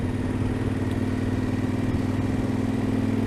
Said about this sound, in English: the clutch basket always makes a bit of a noise